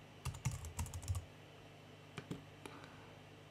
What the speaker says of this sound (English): just start typing some text. Now I've just typed out my text